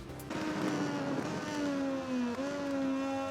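Racing motorbike engine in the MotoGP 19 video game, a steady high-pitched whine rising and holding near, with a brief dip midway as revs shift, continuous and loud with no talk.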